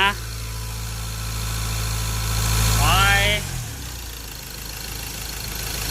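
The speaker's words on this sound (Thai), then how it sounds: "เร่งเครื่อง" A Ford Ranger truck with a freshly installed turbo idles with a steady drone, gives a single sharp rev that climbs and falls back, then cuts to a quieter low hum.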